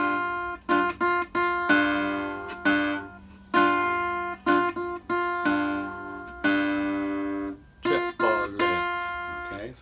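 Acoustic guitar in open G tuning plays a delta blues exercise: a pinched bass-and-treble note on the first beat, then a quick triplet and two bass notes, repeating in a steady rhythm. It rings clear and close, with no voice.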